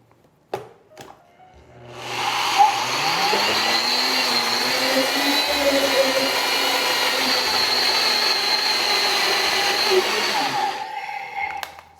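A kitchen blender roughly grinds soaked rice for South Indian dosa batter, a loud steady motor whir with a churning rise in pitch, running about nine seconds alone before cutting off.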